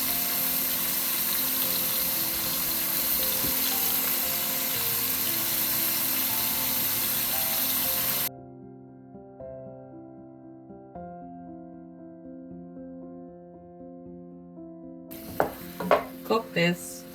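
Tomato paste sizzles steadily in a hot pan for about eight seconds, then drops to a quiet stretch with faint low hum before brief clatter and stirring return near the end.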